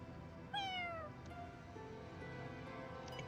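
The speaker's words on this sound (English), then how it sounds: "Cat." A single cat meow in the video game Fire Emblem Engage, clear and fairly close, falling in pitch over about half a second against quiet background music, with a faint softer sound following.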